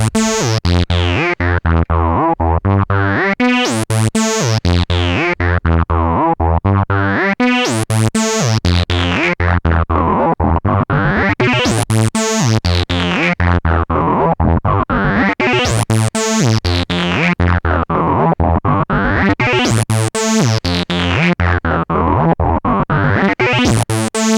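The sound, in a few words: Korg synthesizer sequence with super fast LFO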